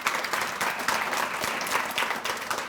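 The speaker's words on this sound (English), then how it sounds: "A round of applause for Laura." A dinner audience at a chamber of commerce anniversary event gives steady clapping from many hands, a dense patter heard from the room at moderate distance.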